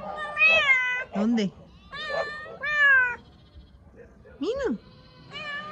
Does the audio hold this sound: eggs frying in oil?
no